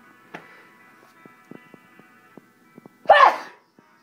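A single sharp sneeze, blamed on autumn allergies, bursts out loudly near the end, following a few soft clicks and faint background hum.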